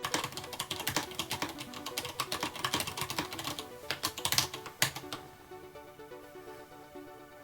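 Fast clattery typing on an A-MAY-ga Simulant mechanical keyboard, with dense, crisp key clicks in rapid bursts that thin out to sparse taps and then stop, heard up close with no talking.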